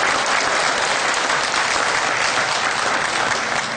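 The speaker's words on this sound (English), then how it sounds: "I think we just put a round of applause together for this great group" An audience at an Ontario summer cattle show applauds a class of calves, a dense, loud, continuous clapping that holds evenly throughout.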